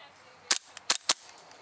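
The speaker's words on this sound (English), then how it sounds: "Shooting right where I'm aiming." Three sharp shots from a KJW KC02 airsoft rifle, a 10/.22-style gas gun with M4-type stock, crack out in quick irregular succession with brief gaps, fairly close and loud against a quiet background.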